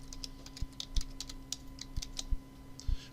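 Computer keyboard keys tapped at a loose, uneven pace while entering a database field caption, close clicks with a few heavier thumps, over a low electrical hum.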